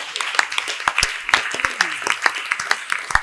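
A church congregation at a Sunday service claps and cheers in a dense, roughly rhythmic burst of sharp hand claps, with raised voices mixed in throughout.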